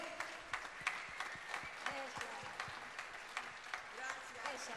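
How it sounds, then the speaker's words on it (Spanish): Applause rolls on steadily at a folk music performance of a zamba, many hands clapping at a moderate distance with sharp individual claps standing out, voices mixed in beneath. "Aplauso fuerte."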